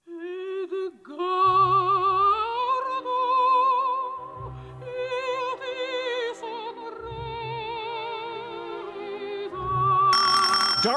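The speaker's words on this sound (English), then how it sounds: "For your music starter, you'll hear an excerpt from an opera." A soprano voice sings sustained, vibrato-laden operatic lines from a Verdi opera over orchestral accompaniment, with low bass swells entering in bursts and a bright shimmer near the end.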